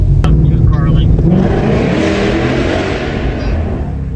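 A Ford Mustang GT500 engine revs loudly and roars steadily from inside the car on a race track, a deep sustained rumble with voices over it.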